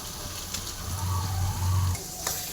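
Garam masala is mixed into a fish-head and Malabar spinach chhechra as it fries, giving a continuous soft sizzle with a low hum underneath and faint stirring scrapes.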